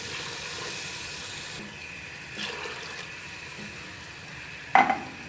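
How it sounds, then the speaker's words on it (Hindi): Water is poured into a pan of soaked chana dal on the stove, producing a soft, steady rushing hiss that runs for several seconds. A short clatter is heard near the end, and no one talks. "अब मैं इसमें पानी ऐड करूंगी"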